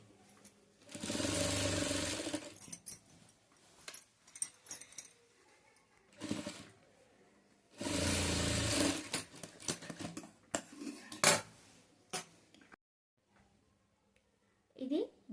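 A sewing machine stitches the shoulder of a frilled long frock for a five-year-old, running in two close, steady whirring bursts separated by handling clicks and rustles, with a voice talking between them.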